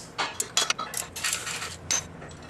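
A 14mm bolt comes out of a Nissan SR20DET engine during teardown, with a quick series of close metallic clinks and ratchety clicks from the tool in short bursts.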